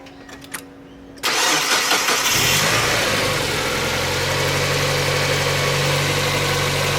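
A Mazda MX-5 engine cranks and fires up in a garage during a heater-return coolant leak repair, a sudden loud start after quiet that settles into a steady, close idle.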